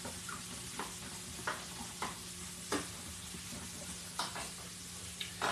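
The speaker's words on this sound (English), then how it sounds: "Just give this a good whisk, whisk, whisk." Seasonings for fried meatloaf being whisked in a bowl, a quick run of soft, irregular scraping and tapping strokes at close range, fairly quiet, with no one talking.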